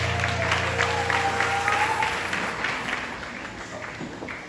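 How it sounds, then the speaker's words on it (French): Church congregation applauding at a Sunday service, a steady wash of clapping that fades gradually toward the end, with a low hum underneath. "on acclame la parole de Dieu"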